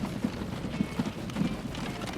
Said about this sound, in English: we're very posh horses. We walk in a very stiff manner with our heads held high